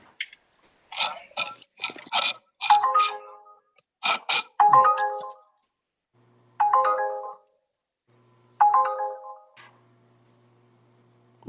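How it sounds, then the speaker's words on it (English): A telephone rings in a lively room, its tones repeating in bursts between stretches of background chatter and laughter. "Who's answering the phone?"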